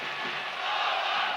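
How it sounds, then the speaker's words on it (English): A football stadium crowd roars at a 1993-94 UEFA Cup match between Slovan Bratislava and Aston Villa, a dense, distant sustained swell of many voices that builds slightly louder halfway through. "That's got the crowd going and the coach."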